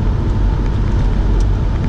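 A convertible Audi drives along long country roads near Rochester, its steady broadband road and engine rumble filling the space continuously and fairly loud, with no voices over it.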